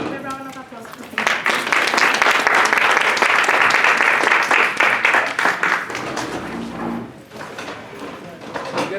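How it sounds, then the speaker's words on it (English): An audience breaks into loud, sustained applause that swells quickly and then gradually thins out, with a voice and a few scattered claps near the end. "So give a round of applause for him."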